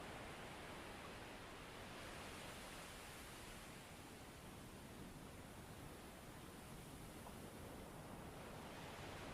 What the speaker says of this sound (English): As the waves continue to surge forward and recede,